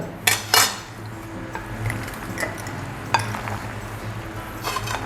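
Macaroni salad with grilled chicken and honey being mixed in a bowl, a utensil clinking and scraping against the sides in a few sharp knocks, then softer stirring and occasional taps.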